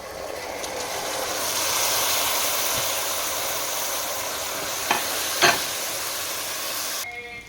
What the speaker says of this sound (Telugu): రెండు నిమిషాలు ఇలా పప్పుని ఫ్రై చేసుకోవాలి